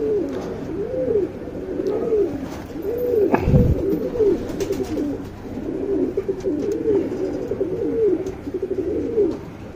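Pigeons coo steadily in repeated rolling phrases, close and clear, one call after another with a brief low thump partway through and no talking.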